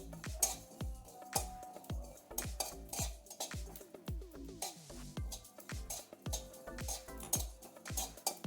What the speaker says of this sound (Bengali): গোটা জিরে শুকনো খোলায় একটু ভেজে নেব।